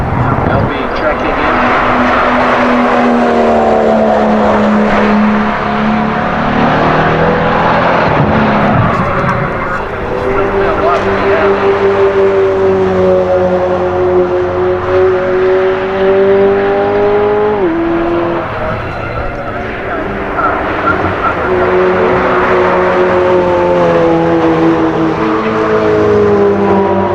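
Race cars passing one after another at a driving festival, engines rising and falling as each goes by at close range, with a steady roar and shifting pitch and occasional voices underneath.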